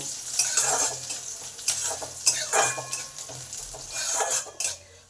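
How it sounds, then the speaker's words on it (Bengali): Chopped garlic fries in a pan for a cauliflower-leaf dish, with bursts of stirring and utensil clatter over a steady low sizzle, close and fairly loud, no talking. "রসুন কুচিটাকে একটু লাল লাল করে ভেজে নেব"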